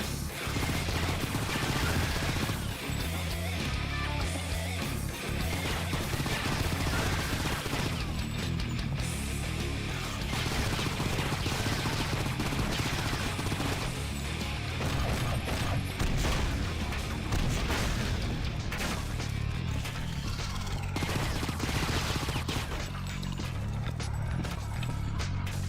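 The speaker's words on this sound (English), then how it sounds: "Dangerous using the rocket launcher" Rocket launcher firing amid constant combat noise in the PC shooter Painkiller, a dense, loud wall of blasts, crashes and gunfire running without pause, with no clear single shot standing apart.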